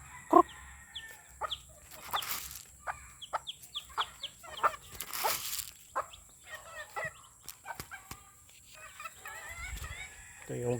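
Chickens cluck in a backyard flock, alongside the thin, high peeping of seven newly hatched chicks one day old, pecking at rice. The bursts are scattered and close, with a dog barking briefly and a little faint talk in between.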